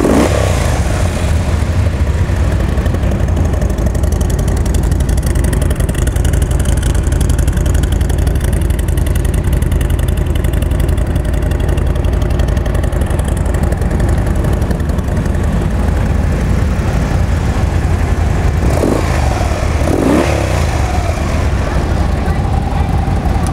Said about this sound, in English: Let's see if we can hear this baby run.